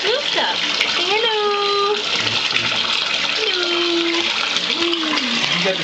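Bathwater runs and splashes steadily in a filled tub, a constant wash of water noise heard close up, while voices with rising and falling tones sound over it.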